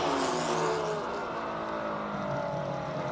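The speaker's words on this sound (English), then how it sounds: "Not often you see a Jaguar XJS Coupe going up the track." Jaguar XJS Coupe racing up a hillclimb track, a loud, rasping engine howl that holds a high pitch, then eases slightly as it moves off, with no talk over it.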